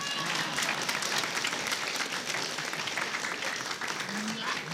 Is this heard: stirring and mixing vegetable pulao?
no